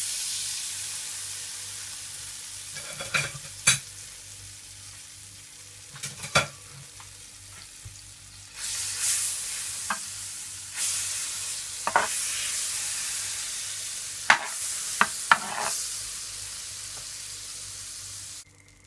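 A spoonful of butter melts and sizzles in a pot, a quiet bubbling crackle that swells midway, punctuated by several sharp spoon clicks and clinks against the metal.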